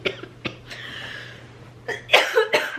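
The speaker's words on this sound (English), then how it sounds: "I still have this lingering cough." A few sharp coughs from a lingering cough, close by, with short pauses between them and a quiet hum underneath.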